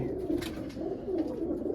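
Pet pigeons coo steadily in their loft, soft rounded calls overlapping close to the microphone with no talking.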